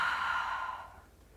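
One long, audible exhale during a yoga pose, a close airy breath that fades out over about a second.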